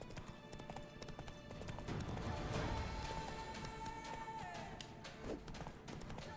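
Galloping horse hoofbeats in The Witcher 3: Wild Hunt, Blood and Wine, a steady rapid clip-clop close up over game ambience with a brief whinny.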